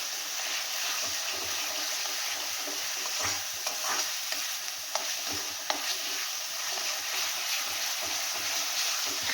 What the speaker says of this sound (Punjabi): ਨਾਰਮਲ ਗੈਸ ਰੱਖ ਕੇ ਤੜਕਾ ਭੁੰਨਣਾ